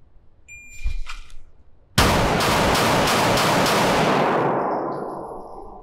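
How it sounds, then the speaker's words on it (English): Rapid string of pistol gunshots at a shooting range during a Bill Drill, a loud burst of about six closely spaced shots ringing out and decaying, with brief low talk just before. "All right, let's go, I'm gonna shoot it now."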